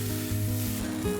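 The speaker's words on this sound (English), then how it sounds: "Sauté for a few minutes." Corn and pepper sauté in a hot pan for vegan tantanmen ramen, giving a steady close sizzle with faint stirring throughout.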